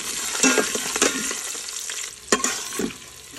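Onions fry in a pan with whole spices and cashews for vegetable pulao, a loud close sizzle punctuated by a few sharp scrapes of a stirring spatula.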